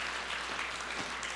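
Applause from a church congregation after a sermon, a dense, even wash of clapping that carries on steadily without pause.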